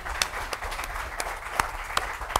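An audience clapping hands at a church gathering, a moderate, fairly steady patter of many hands with a few sharper individual claps standing out, heard at some distance.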